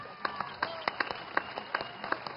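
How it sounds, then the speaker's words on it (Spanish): Sparse applause from an audience at a tribute event for Matilde Casazola: a few separate sharp claps scattered irregularly, thin and light rather than a full ovation, with no speech over it. "Fuerte el aplauso, por favor."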